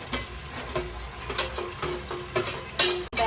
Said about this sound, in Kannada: ಈಗ ಟೊಮೆಟೊ ಹಾಕ್ತಾ ಇದ್ದೀವಿ ಕ್ಯಾಪ್ಸಿಕಮ್ ಕೂಡ ಜೊತೆಗೆ ಹಾಕೋತೀನಿ